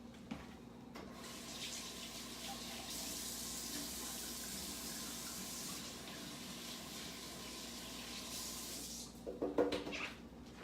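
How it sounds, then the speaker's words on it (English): Tap water runs steadily into a kitchen sink during hand washing, a continuous hiss and splash lasting nearly the whole stretch, ending with a few clattering knocks. "Let me just wash my hands one more time"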